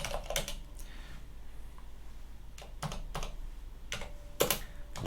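Soft clicks and clacks of typing on a computer keyboard come in short bursts separated by quiet gaps, with a few sharper keystrokes standing out, fairly faint and close with no voices.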